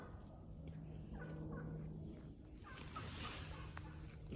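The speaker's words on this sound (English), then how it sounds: "Turkeys are still behind me." Faint turkey gobbling rises in the distance over a wash of outdoor noise and low hum.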